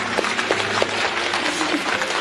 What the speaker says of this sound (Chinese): 我觉得应该为这样的妻子鼓掌。